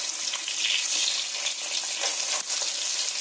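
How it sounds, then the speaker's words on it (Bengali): Several parshe fish fry together in hot oil in a kadai, producing a loud, continuous bright hiss close by, with one short dip before the sizzle carries on unbroken. "সব মাছগুলো আমি একসঙ্গে দিয়ে দিয়েছি ভাজার জন্য"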